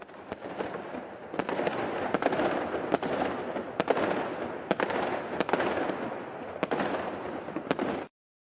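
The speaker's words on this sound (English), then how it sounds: "This fireworks is for you." Fireworks burst in a steady series of sharp, loud reports about once a second, each cracking over a continuous crackling rumble that runs until it cuts off abruptly near the end, with no talking.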